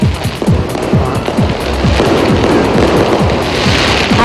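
Fireworks for Chinese New Year in Manila's Binondo Chinatown pop and crackle rapidly in a dense, loud barrage over a continuous hiss of burning and crowd noise.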